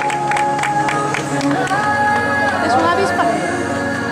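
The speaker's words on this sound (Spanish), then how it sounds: "aplausos por ella también, aplausos para todos" Spectators clap and cheer for runners at a popular footrace in Moraña in 2011, a loud steady crowd with sharp claps and chatter blended over the din.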